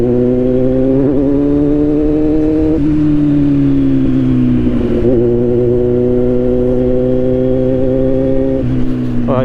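Motorcycle riding on a road, its engine humming steadily and loud up close, with pitch rising and dipping as the throttle shifts through the ride.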